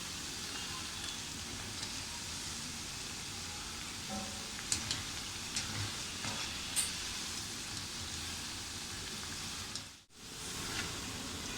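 Chana dal and moong dal bhajis frying in hot oil, a continuous soft sizzle like light rain, fairly quiet and steady, with a brief dropout near the end and no voices.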